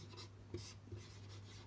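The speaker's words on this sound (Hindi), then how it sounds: "मैं अभी यहाँ पे लिखता हूँ" Pen scratching on paper while writing by hand, faint and intermittent, with short light strokes over a steady low mains hum.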